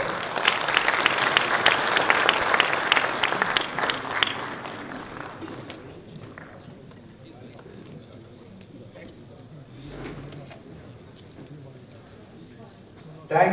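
Audience clapping at the inaugural session of an international computing conference, a fairly loud, dense burst for the first four seconds that then fades away, leaving quiet room noise with faint rustling and voices.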